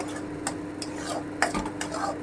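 Vegetarian stuffing for potol (pointed gourd) is stirred and sautéed in a pan, with several quick scraping strokes of a utensil against the pan over a faint, low sizzle.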